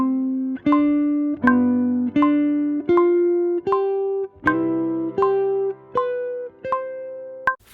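Clean jazz guitar plays a steady arpeggio pattern through a 2-5-1 chord progression, each note plucked distinctly in an even rhythm, close and clear with no talking.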